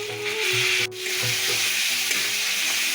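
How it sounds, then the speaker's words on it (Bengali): Carrots fry in hot oil with a spoonful of ghee in a pan, a steady close sizzle with stirring scrapes and a brief dip midway, no voices present. "এখন আমি গাজরটা দিয়ে ভেজে নেব।"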